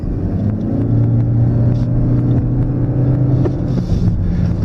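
A 2014 Lexus CT 200h F Sport hybrid hatchback pulling away gently on a race track, a steady low engine drone and road rumble held close and loud throughout.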